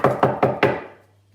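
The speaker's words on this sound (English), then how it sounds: "Suddenly, there was a knock at the door." Four sharp, evenly spaced wooden knocks on a door, loud and close, each ringing briefly before the last fades out into quiet.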